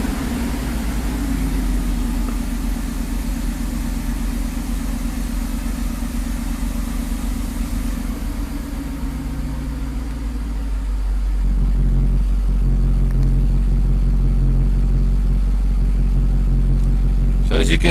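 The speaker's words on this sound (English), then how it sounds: "the car fired right up" Cold engine cranks and fires up in a car with a freshly rebuilt fuel distributor, settling into a steady low idle that rises and drops slightly around the eleventh second; close, continuous running with no talk.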